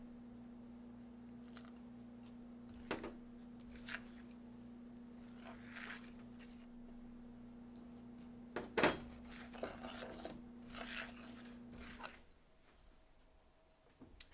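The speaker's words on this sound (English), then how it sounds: "I'm just stirring very lightly." Pie crust dough being stirred lightly in a bowl: faint, scattered scraping and clinking of a utensil against the bowl, with a few sharper knocks, over a low steady hum.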